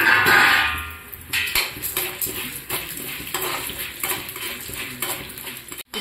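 Coriander seeds, chana dal and urad dal dry-roasting in a pan for ginger pickle, with a metal spoon scraping and clinking against the pan in repeated strokes, close and moderately loud.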